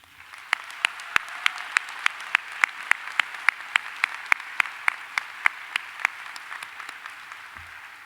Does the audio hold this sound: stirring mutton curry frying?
no